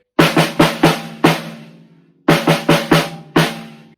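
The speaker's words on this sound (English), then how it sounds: "Now, we just do that on the snare" On snare alone, a five-note drum fill is struck twice in quick bursts, crisp close hits with a brief ringing tail between the two runs, no voices.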